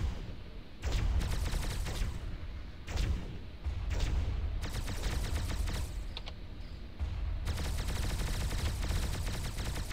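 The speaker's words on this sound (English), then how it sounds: "Fire at will command executed." Spaceship weapons in Starpoint Gemini 2 fire in loud, rapid bursts, several volleys separated by short pauses, with a continuous chattering roar during each burst.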